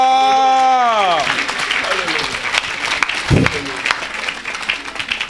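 A church congregation at a French-language evangelistic service breaks into applause and cheering as a sustained sung or shouted note fades, then dense clapping continues with scattered shouts.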